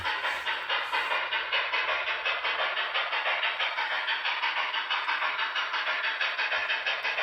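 A Broadway Limited T1B Boston and Maine Berkshire model locomotive runs at speed, giving a steady, rhythmic mechanical whir and clatter, close and continuous with no talk.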